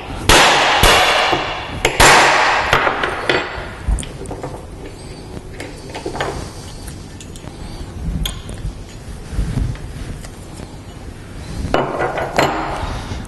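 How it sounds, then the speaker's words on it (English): A punch and hammer drive a pin out of a Triumph Stag timing component, giving sharp metallic clangs and knocks at irregular intervals, loud and close with no talking. "Now we can use a punch and hammer,"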